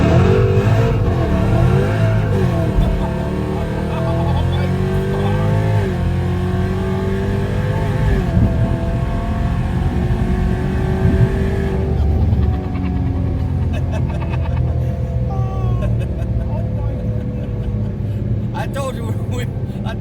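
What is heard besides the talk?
car launching from a dig, spinning and burning tires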